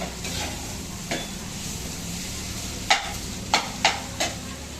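Food sautés in a pan under a steady, low sizzle, with a few sharp utensil knocks and scrapes against the pan toward the end.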